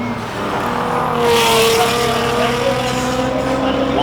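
Nissan GTR R32 race car at the Simola hillclimb, its engine roaring steadily and rising in pitch as it powers past, loud and close with a brief swell midway.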